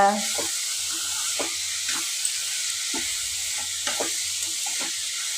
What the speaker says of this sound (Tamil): இந்த தேங்காயோட பச்சை வாசனை போகிற வரைக்கும் இதை வதக்கணுங்க